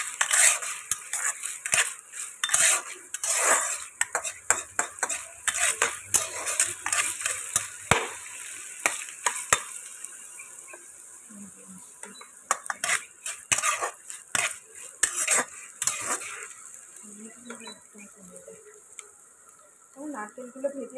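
Coconut pieces frying lightly in oil, with repeated sharp clatters of a utensil against the pan over a soft sizzle, close and uneven, with a voice talking at times.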